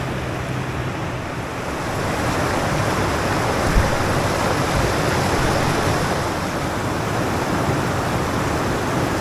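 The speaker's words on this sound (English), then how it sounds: "oh yeah, there's some waterfalls." Waterfalls on the River Trent rush in a steady, loud broadband roar of churning water, heard continuously from a kayak on the river with no talking.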